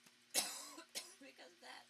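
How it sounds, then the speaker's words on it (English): A person coughs hard twice, the first burst the loudest, with a few softer throat sounds trailing after, caught a little away from the microphone indoors. "I'm coughing a bunch"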